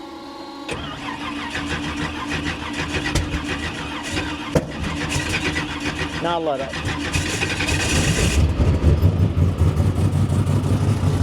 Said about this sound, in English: I know how to start a cold car. Just let it warm up.